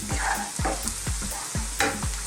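Coriander powder and other ground spices stirred hard in a hot pan, a spoon scraping in a steady rhythm of about two strokes per second over a constant close sizzle, with no voices.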